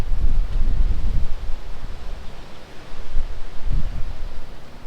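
Strong wind gusts buffet the microphone at a beachfront campsite, a rough low roar that swells and eases in uneven surges with no voices.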